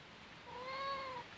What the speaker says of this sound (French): Qu'est-ce que tu veux, chat?